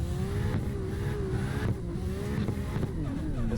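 A car engine revs hard and steadily in a mountain and Shutoko highway drifting video game, the high engine note rising and falling loudly throughout with faint tire noise.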